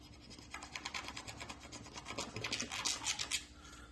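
Hard drive platter being scratched to destroy data: a close, rhythmic series of gritty rasping strokes, repeated back and forth for several seconds without talk.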